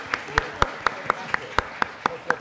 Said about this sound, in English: Quick round of applause for Carrie Fisher